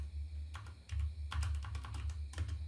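Keystrokes clatter on a computer keyboard in quick, irregular bursts, quiet and close, over a steady low background hum.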